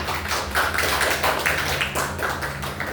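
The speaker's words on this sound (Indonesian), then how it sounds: "mari kita berikan aplaus kepada kelompok 2" Applause from a classroom audience for a presenting student group, a steady dense patter of clapping hands lasting throughout without pauses.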